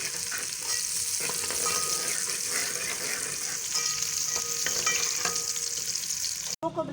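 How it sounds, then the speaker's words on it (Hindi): Onions fry in oil over medium heat for aloo gobi, giving a steady close sizzle with repeated stirring and scraping strokes, continuous and without talk. "आधा अब मैंने इसमें डाल के प्याज को फ्राई कर दूँगी। दरमियानी आंच पे इसको फ्राई करना है"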